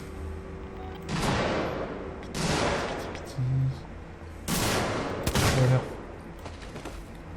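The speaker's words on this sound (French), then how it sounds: "Le revolver à distance c'est pas puissant." Revolver shots in Alien: Isolation, a few separate loud bangs with echoing tails spaced over several seconds, with someone speaking briefly between them.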